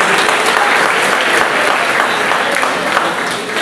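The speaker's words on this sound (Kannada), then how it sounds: "ಜೋರಾಗಿ ಚಪ್ಪಾಳೆ ಕೊಡಲಿ" An audience claps loudly and continuously at a community bride-and-groom meet function, a dense, sustained round of applause filling the hall without a break.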